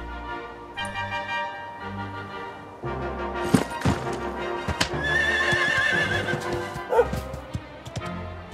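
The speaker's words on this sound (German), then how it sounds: "Wie herrlich, ein Pferd." A horse in the Dragon Quest XI video game gives a loud, quavering whinny partway through, set over game music with hoof clops and other effects.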